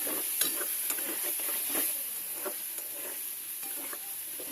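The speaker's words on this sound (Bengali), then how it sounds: "আলুর সাথে এখন এটাকে মিক্স করে নেবো" Fried potatoes being stirred with ginger-garlic spice paste in a pan for ghugni, a steady sizzle under irregular scraping strokes of the spoon, close and moderately quiet, with no talking.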